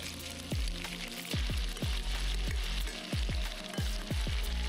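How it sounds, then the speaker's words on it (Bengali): Prawns frying lightly in mustard oil in a wok: a constant loud sizzle broken by repeated sharp metallic knocks of a utensil against the pan, about a dozen in a steady rhythm, with no voices. "এবার আমি মাছগুলো হালকা করে ভেজে নিচ্ছি।"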